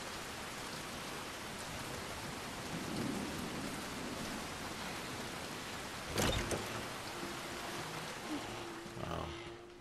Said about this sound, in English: I kind of like this with the rain.